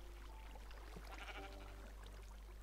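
A Minecraft sheep bleats once or twice over a constant low electrical hum and soft background noise, faint and somewhat distant.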